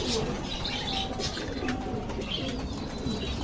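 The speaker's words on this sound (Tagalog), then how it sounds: "Yung mga alaga kong kalapate." Pet pigeons coo softly in a close coop, low repeated burbling calls with light chirps and a rustle of wings over steady background hiss.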